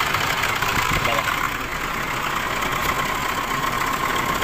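An Isuzu D-Max pickup engine idles steadily nearby, running hot and feeling sluggish, a constant mid-low mechanical hum with a faint ticking texture and no speech over it.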